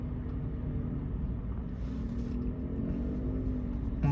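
Motorcycles pass along a road in a steady, loud engine rumble that holds for several seconds, with a brighter whoosh near the end as one goes by.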